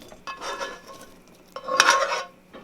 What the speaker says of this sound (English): our broccoli rabe is just about perfect, so we're going to add this to our big bowl